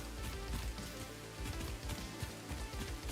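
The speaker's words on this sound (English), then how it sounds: "Oh, it's raining!" Steady rain patters across the Satisfactory game world during a sun shower, a dense, continuous hiss of drops that holds at an even level throughout.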